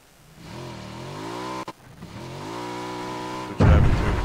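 Motorbike engine in PUBG revving up and holding a steady drone with rising pitch, a brief dip partway through, then a louder burst of noise near the end.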